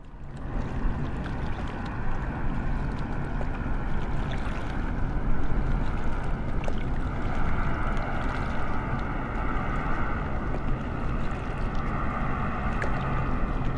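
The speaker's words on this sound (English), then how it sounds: "when a plane is passing from far away, you not only hear the direct sound of the engine, but you will also hear all the sound reflections" Distant plane engine rumbling and echoing off surrounding mountains in Microsoft Flight Simulator, a steady broad drone with a wash of reflections, fairly loud and continuous with no talk.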